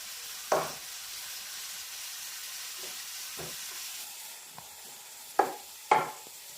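Sliced onions fry in ghee in a pan with a soft, constant sizzle and hiss, broken by a few sharp metallic stirring clanks spaced through the stretch.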